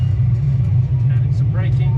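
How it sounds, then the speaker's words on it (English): Reverse thrust on a Boeing 737 simulator after landing produces a loud, constant deep rumble that fills the whole moment, with faint higher noise drifting over it. "Reverse thrust."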